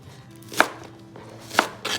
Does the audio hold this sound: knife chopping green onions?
yes